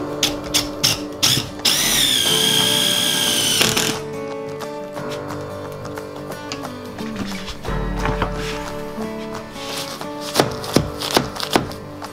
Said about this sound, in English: now it's just a matter of driving a self-tapping screw into the frame